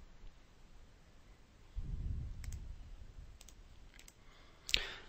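Computer mouse buttons click a few times, sharp and close, in a quiet room with a brief low rumble partway through and no speech.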